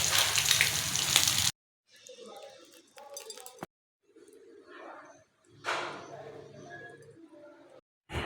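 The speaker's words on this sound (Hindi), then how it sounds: "उसके बाद ना आपने अंडा ऊपर डाल देना, फिर हल्का सा फ्लेम ऑन कर देना" An egg fries in oil on a tawa, giving a bright, loud sizzle that breaks off into quieter bursts of crackling and clatter, with brief silent gaps between them.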